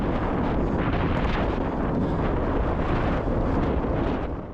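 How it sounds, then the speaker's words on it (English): Strong wind on the back straight of a cargo bike race at the VELO Berlin Bike Festival, roaring loud and continuous as a dense buffeting rush against the microphone, with no talk over it. "The wind on this back straight was absolutely horrendous."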